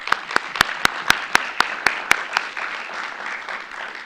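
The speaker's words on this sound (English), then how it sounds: "So a round of applause for them." Attendees at a school board meeting give a round of applause for graduating students, a moderate patter of clapping with several sharp, rhythmic claps standing out near the front before it dies away.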